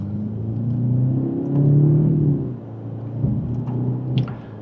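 A BMW 530i xDrive accelerating in second gear in sport mode, a low rumbling engine note heard from inside the car that swells and eases as it pulls.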